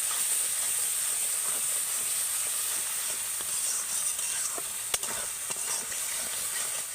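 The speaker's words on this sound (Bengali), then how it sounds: "এবার আমি এই সব মশলাগুলোকে অল্প একটু জল দিয়ে ভালো করে কষিয়ে নেব" Spices cook with a little water in a pan for an egg biryani, giving a continuous soft hiss and sizzle with faint scraping stirs and one brief clink partway through.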